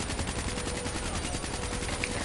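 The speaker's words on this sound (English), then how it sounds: "I sniped them with my Shiva" Rapid, dense gunfire from a Shiva sniper rifle in a video game firefight, sharp shots repeating quickly and evenly at steady loudness throughout.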